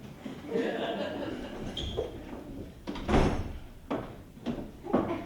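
Doors slap shut on a theatre stage during a performance of the farce Noises Off, giving a few loud, sharp wooden bangs spaced about a second apart over muffled stage voices and audience murmur.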